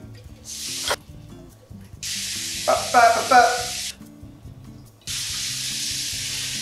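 Canned beans rinsed in a kitchen sink, running water hissing in loud bursts that start and stop, with a brief splashy patch in the middle and a low background hum beneath.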